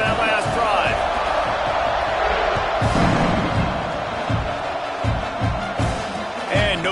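A big football stadium crowd roaring at an Ohio State game, a loud, continuous wash of cheering and shouting from the stands, with bursts of whoops and thuds rising through it.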